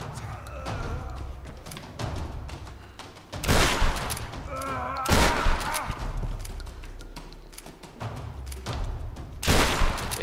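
Gunfire from a Tomb Raider video game, bursts of shots and heavy thuds arriving in loud clusters among quieter stretches of game sound, with a voice speaking now and then.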